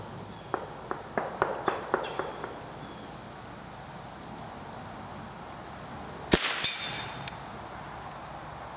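An old .22 rifle fires once at a squirrel-shaped target, a sharp, close crack with a brief ringing tail, followed by a fainter knock. Soft clicks from handling the gun come first.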